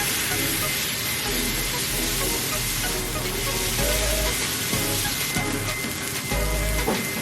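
A ball of ground brisket smashed into a smash burger on a hot griddle, sizzling steadily up close with a few scraping, clanking spatula hits, no talk.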